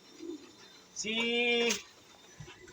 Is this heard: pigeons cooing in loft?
yes